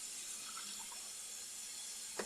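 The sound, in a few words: cold tap water running over cooked spaghetti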